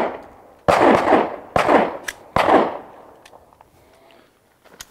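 Carbine shots ring out during a shooting drill: three sharp, loud reports spaced about a second apart with echoing tails, followed by fainter distant pops.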